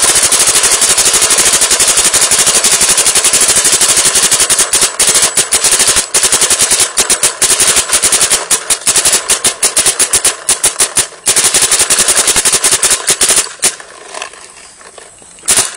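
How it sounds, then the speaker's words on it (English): A Smart Parts Impulse paintball marker fires in a rapid, loud continuous stream of pops, breaking into faster irregular bursts before trailing off near the end. "Smart Parts Impulse shooting video."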